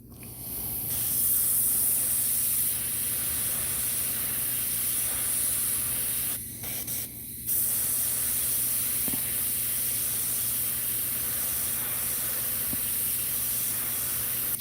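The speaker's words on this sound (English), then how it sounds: "I'll take my brush and I'll just kind of spray it off to the side" An airbrush sprays lacquer paint in a long steady hiss, briefly cutting out and resuming, close and continuous.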